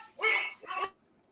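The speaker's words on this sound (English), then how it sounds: "Oh, she's barking." A dog gives two short, sharp barks in quick succession, fairly close and otherwise quiet, heard during a live animal rescue show broadcast.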